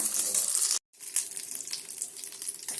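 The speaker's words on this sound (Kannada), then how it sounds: "ಈಗ ಈ ಒಗ್ಗರಣೆ ನಾವು ಚಟ್ನಿಗೆ ಹಾಕೊಳ್ಳೋಣ." Hot tempering of dry red chilli pieces and curry leaves poured into coconut chutney gives a loud, steady hiss and crackle that stops briefly and then carries on as a sustained sizzle.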